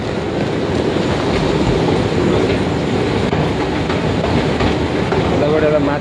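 A train rumbles steadily past a railway platform, with a loud continuous roar of wheels on track and faint high squeals near the end, close and dense throughout.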